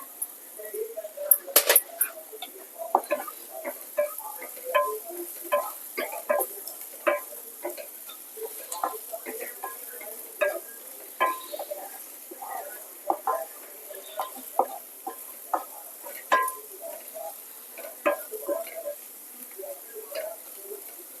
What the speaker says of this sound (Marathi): कांदा आपला चांगला फ्राय झालेला आहे